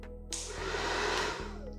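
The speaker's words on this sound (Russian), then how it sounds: "Теперь, значит, подготовили фен. Он у нас на низком старте. Проверяем, что он у нас включается." A hair dryer, used for fluid art painting, switches on with a click and blows steadily at close range, a loud continuous whoosh with no voices.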